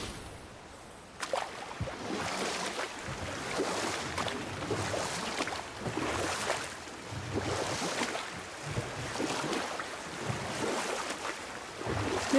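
A waterfall in the God of War video game, a steady, broad rushing wash of water with gusty swells, continuous and moderately loud with no voices.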